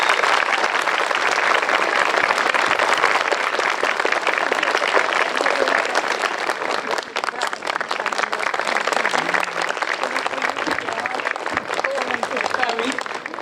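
Strong, sustained applause from a large audience at a school's 80th anniversary celebration in Trush fills the room for over thirteen seconds, dense and loud, easing slightly toward the end.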